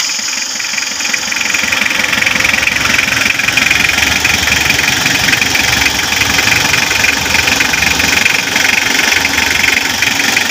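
A Toyota Hiace Super GL diesel engine runs close and loud with a steady, knocking diesel clatter throughout, with no talking.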